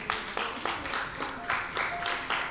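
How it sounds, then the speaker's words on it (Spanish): A church congregation claps hands in praise, sharp, evenly spaced claps repeating about four times a second, fairly close and steady throughout. "Dale las palmas al Señor."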